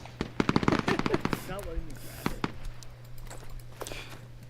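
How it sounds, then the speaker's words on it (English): Military shooter Arma 3 infantry training with rapid bursts of automatic gunfire up front, then scattered single shots trailing off, all under a steady low hum with faint radio-like voices. "Shoot more bullets."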